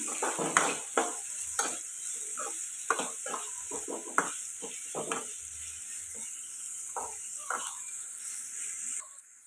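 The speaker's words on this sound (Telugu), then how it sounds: "ఇప్పుడు ఇవి కలుపుకొని ఫ్రై చేసుకుందాం" Onions and other ingredients for an egg dish fried in a pan, a quiet background sizzle broken by clinks and scrapes of a spatula stirring, the steady hiss cutting off at the very end.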